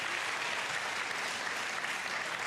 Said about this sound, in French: Le public applaudit bruyamment.